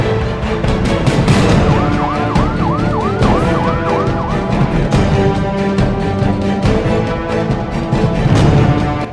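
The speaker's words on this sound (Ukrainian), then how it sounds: "Повітряна тривога." A wailing siren with rising and falling sweeps plays loudly and continuously over dense background sound, sounded as an air raid alert during a state of war in the Brody area of Ukraine.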